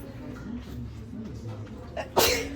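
A single sharp sneeze bursts out near the end after a stretch of quiet indoor murmuring and voices, close and sudden.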